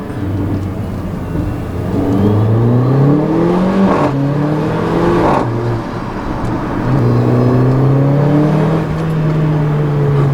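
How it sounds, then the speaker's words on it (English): A turbocharged 2015 Mercedes-Benz GLA 45 AMG engine revs loudly and continuously, rising and falling in pitch through several pulls, up close with no voices. "Great turbo noises."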